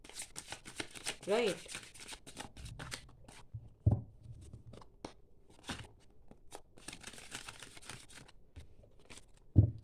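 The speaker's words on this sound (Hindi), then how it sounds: "मैं शफल करती हूँ।" Tarot cards are shuffled close up, giving rapid crisp riffling bursts separated by soft taps and knocks; someone speaks briefly between them.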